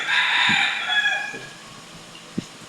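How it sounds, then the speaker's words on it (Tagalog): A rooster crows loudly and close at the start near a construction site, a strained, drawn-out call that trails off, followed by a few faint knocks. "Kaya may mga tumitilaok na manok."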